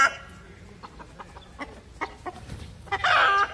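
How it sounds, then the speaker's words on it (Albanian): A rooster on a Montenegro farm clucks softly in short scattered bursts, then breaks into a loud crow near the end, close by with quiet rural background. "Gjel! Qa gjeli?"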